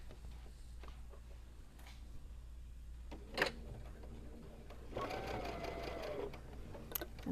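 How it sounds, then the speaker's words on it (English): Sewing machine stitching around a fabric casserole hot pad, faint rhythmic whirring in short runs with quiet clicks between, a longer steady burst near the end. "And let's take some back stitches. And now we're going to stitch all the way around."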